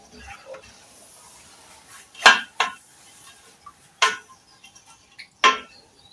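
A spoon stirs tomato rice in a cooking pot, giving about five sharp metallic clinks and scrapes spaced a second or so apart over a quiet background.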